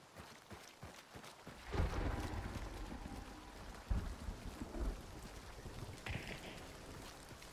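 Heavy rain in Hunt: Showdown pours steadily while deep thunder rumbles swell and fade in several rolling waves, with scattered sharp clicks and knocks on top; no voices.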